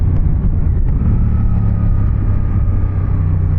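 Suzuki GSX-8R motorcycle engine running steadily while riding, a loud, continuous low rumble with little change in pitch.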